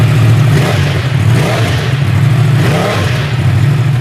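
A Yamaha R1 sport bike with an aftermarket exhaust revs hard and continuously, a loud close engine roar with a deep low drone and rising and falling throttle swells throughout.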